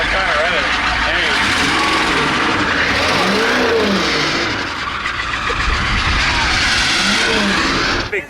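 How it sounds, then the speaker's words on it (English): A Humvee driven deep into water, nose first into muck, revs its engine hard in gear with a loud, sustained roar that rises and falls, along with splashing and people shouting over it. "Alright, I was in gear. I'm trying to rev it."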